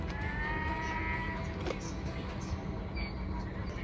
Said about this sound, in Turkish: Uzaktan bir eşek anırması sesi geliyor.